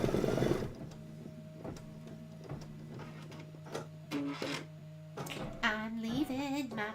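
Embroidery sewing machine running a basting stitch, a quiet mechanical hum with rhythmic ticks and short whirring bursts near the end.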